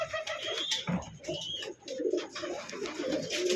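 Pigeons coo repeatedly in a sale loft of large-sized birds, soft throaty calls rising and falling close by with a busy background of other bird sounds, no talk.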